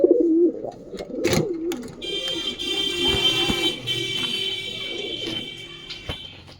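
Pigeons kept in a cage coo in low, throaty, repeated calls nearby, joined by a sharp flutter or clatter and a high steady electronic whine in the background.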